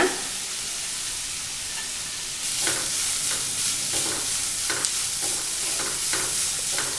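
Mixed vegetables including capsicum, cabbage, carrot and beans stir-fried in a pan for fried rice, a constant hiss of frying that swells as stirring begins, with repeated scraping strokes of a spatula.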